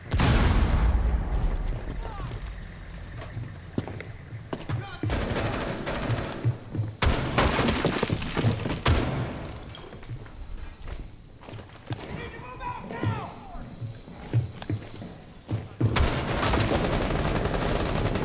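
Gunfire from a DMR and a shotgun in Rainbow Six Siege crackles in rapid bursts and single loud shots, mixed with footsteps and game effects, while players talk over the action.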